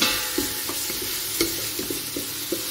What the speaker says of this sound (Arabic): حتى كتحمر لينا مزيان اولا كتشحر مزيان هاد البصله كتستمروا في التحريك